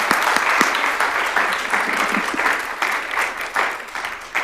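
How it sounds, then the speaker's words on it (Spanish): Steady audience applause fills a sociology conference hall after a talk, close and continuous clapping with a few sharper claps standing out, lasting several seconds without fading. "Yo me aplaudo."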